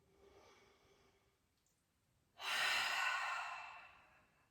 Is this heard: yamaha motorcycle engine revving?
no